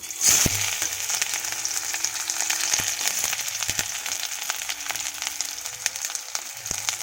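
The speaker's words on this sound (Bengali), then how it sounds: "তো এটার মধ্যে এখন আমি পেঁয়াজটা ভাজা করে নেব।" Onions sizzle and fry steadily in a hot pan of oil, just after chillies were fried in it; a bright, continuous crackle stays close and even throughout, with a few soft clinks and no talking.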